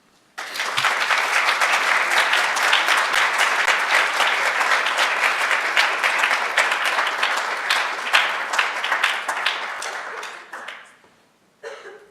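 An audience at a gallery lecture event bursts into sustained applause welcoming lecturer Jonathan Rieke, loud and steady for about ten seconds before fading out, then a brief final clap.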